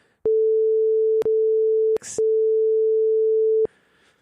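A pure censor bleep tone covers a spoken phone number. It comes in long, loud, steady bursts split by short breaks, with a faint voice fragment in one gap and at the end.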